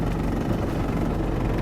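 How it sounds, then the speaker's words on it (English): A 4BT Cummins diesel swapped into a 1997 LX 450 Land Cruiser idles with a dense, steady low rumble, close and unbroken. "There you can hear the idle."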